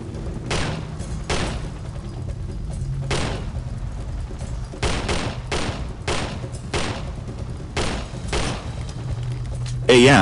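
Gunfire crackles through a Delta Force shooter match, a string of sharp, loud single shots and short bursts at irregular intervals over a steady low rumble, with voices talking throughout.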